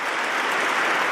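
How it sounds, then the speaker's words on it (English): A brief burst of applause from people gathered in a chapel, dense and steady clapping filling the space at a fairly loud, even level from start to finish. "the resounding round of applause from the people in that chapel"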